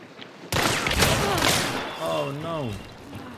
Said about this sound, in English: Oh my god, shotgun!